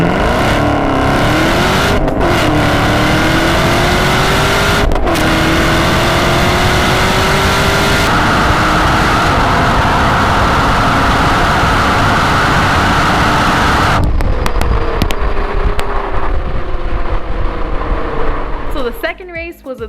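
A 2019 Camaro ZL1 and a 2017 Nissan GT-R roll race, their engines roaring loud and close through rising and falling revs for the whole stretch before the sound suddenly thins out near the end.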